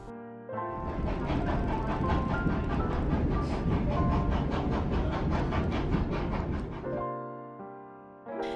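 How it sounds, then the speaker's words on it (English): An old, slow train rumbles past close by along the shore in England, its wheels clacking in a steady rhythm, and the sound fades as it moves on. "driving with this old, slow train along the shore."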